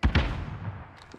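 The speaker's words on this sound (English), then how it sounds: "Tossing stun. Throwing a grenade." Grenade and stun grenade detonations in the video game Warzone: two quick, close booming thuds in rapid succession, then a rumbling decay with faint clicks.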